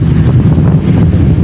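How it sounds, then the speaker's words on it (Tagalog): Strong wind buffets the microphone in a steady low roar that fills the whole moment, with no clear voices. "Lakas ng hangin."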